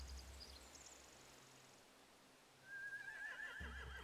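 In the video game The Walking Dead: The Final Season, a faint, distant horse whinny rises near the end over low background rumble and soft rustling.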